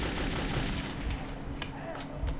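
Gunfire in Metro 2033, rapid close bursts of shots in an underground shooter, loud and dense across the short stretch with a few sharper cracks standing out.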